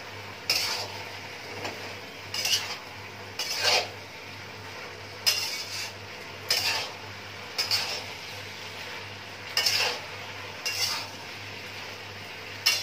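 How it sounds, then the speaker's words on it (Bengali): A spoon scrapes and clatters against a pan as spices are stirred into vegetables while cooking a Lakshmi puja meal. The strokes come in about nine short, irregular bursts over a steady low hum, and no one speaks. "ভালো করে আমি মশলাগুলো মেশাবো"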